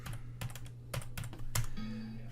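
A date is typed into an Excel 2016 spreadsheet on a computer keyboard, giving a handful of sharp, separate key clicks over a steady low electrical hum, with no talking.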